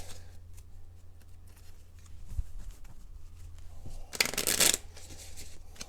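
A deck of playing cards is riffled in a quick, close burst after some quiet handling and soft clicks while setting up the board game Roll Player: Monsters & Minions.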